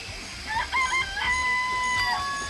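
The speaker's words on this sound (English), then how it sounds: "I remember that there were some chickens in the chicken coop." Chickens in a coop in a video game, with rising cluck-like calls and a short crowing phrase over a low steady background hum, close and moderately loud.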